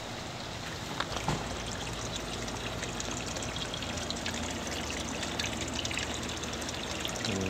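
Water trickles steadily in a small backyard koi pond beside a covered deck and fire pit, a continuous close splashing stream with no voices.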